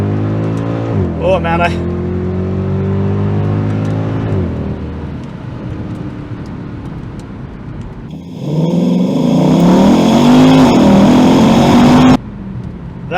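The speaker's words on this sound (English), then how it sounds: "let's accelerate from a standstill in the first gear" Mercedes W211 E63 AMG V8 with secondary catalytic converters deleted, pulling from a standstill in first gear: a loud rising engine roar that climbs, drops, then surges again hard toward the rev limiter, with someone speaking briefly at the start.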